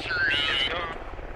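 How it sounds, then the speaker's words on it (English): A helicopter arrives to drop supplies in the Squad video game, a loud rotor and turbine roar sweeping across for about a second before easing off. "Chopper's coming to us to drop supplies."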